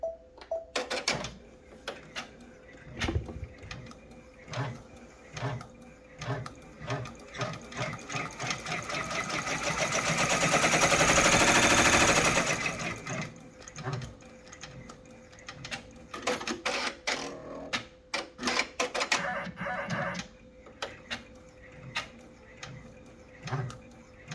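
A sewing machine stitches to tack down a zipper on a lined zipper bag, running in short rhythmic bursts with pauses, then a long continuous run that swells louder before stopping.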